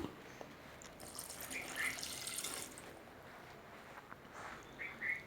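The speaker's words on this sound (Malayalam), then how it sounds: "അര ഗ്ലാസ് വെള്ളം ആഡ് ചെയ്ത് കൊടുക്കാം" Water pours from a glass into a pot of mutton kurma in a home kitchen, a soft, fairly faint splashing trickle that runs for several seconds, heard alone with no talk.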